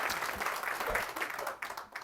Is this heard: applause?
yes